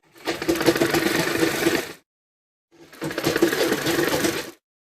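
A sewing machine stitches lining onto a dress neckline in two steady whirring runs of about two seconds each, separated by a short pause, close and fairly loud with no talk.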